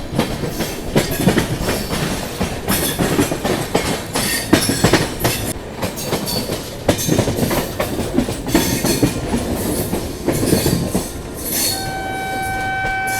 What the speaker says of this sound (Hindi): गजब की रफ्तार में पहुंच रही है अपनी ट्रेन दुर्ग रेलवे स्टेशन।